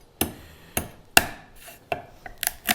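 A kitchen knife's heel chops down through a lobster shell on a board, six or seven sharp, crisp cracks spaced unevenly, close and clear with quiet pauses between.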